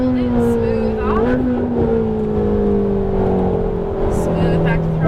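A Ferrari 458 Italia engine hums steadily under throttle, then the note drops as the car brakes, heard from inside the cabin with someone talking over it.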